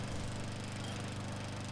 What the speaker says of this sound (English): just that lawnmower sound. Yeah, it's so loud.